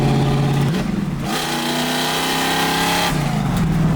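A supercharged 1965 Mustang engine revs hard during a burnout attempt, its loud close roar climbing in pitch and holding steady before dropping back, with no voices.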